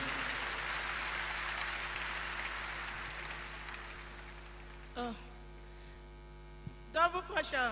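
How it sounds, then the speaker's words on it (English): A church congregation applauds in a sustained, dense clatter over a steady mains hum, fading out after about five seconds before a voice speaks briefly. "You can make that hand clap bigger for Jesus."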